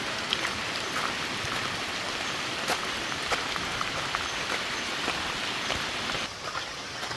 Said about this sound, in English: Rain's not so bad when it's not cold.